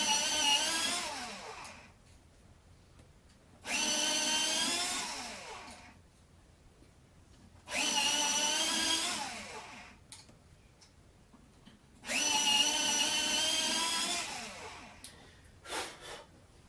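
A pencil sharpener grinding a colored pencil in four bursts of about two seconds each, separated by quiet gaps, then a brief final tap. The sound is close and buzzy with no talking.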